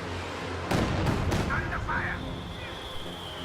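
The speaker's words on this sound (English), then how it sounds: "Here comes the next Katyusha barrage" A Katyusha rocket artillery barrage lands in a video game as a cluster of heavy, rumbling blasts in quick succession, followed by a fading roar, with a voice faintly mixed in.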